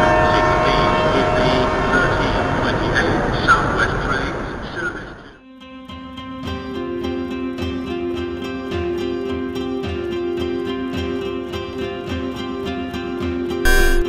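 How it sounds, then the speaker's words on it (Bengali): Animated bullet train running between Dhaka and Kolkata, starting to move: a loud broadband rumble gives way after a brief dip to steady tonal hum and rhythmic clicking, with a horn-like sustained tone and music-like layers. "অবশেষে ঢাকা আর কলকাতাগামী বিশেষ বুলেট ট্রেনটি চলতে শুরু করে।"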